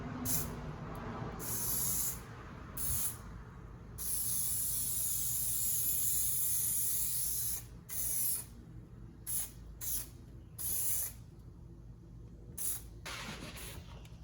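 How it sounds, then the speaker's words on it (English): Steady hissing spray adhesive from an aerosol can in long bursts, then several short sprays, coating insulation in a 2007 Nissan Xterra, fairly close with little else around. "we're going to spray this real quick, spray the insulation"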